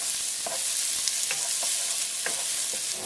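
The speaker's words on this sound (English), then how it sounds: "I'm gonna fry it just like, stir fry until it gets sort of brownish" Garlic, ginger and onions stir-frying in a pan for Tibetan thenthuk noodle soup, a constant loud sizzle with a few scraping stirs of the spatula on top, no voices.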